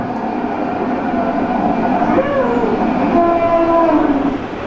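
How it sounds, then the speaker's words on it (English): A train passes close by. Its steady rumble and rolling noise are loud, with tonal whistle- or horn-like lines rising and falling over the mix. No one speaks. "The train just missed him."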